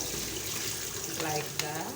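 Water pours steadily into a kitchen sink while draining small omena fish, with a rushing, splashing hiss, continuous and close, with a brief clatter near the end.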